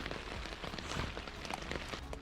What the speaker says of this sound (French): Donc là ça fait bien 3 quarts d'heure qu'il pleut.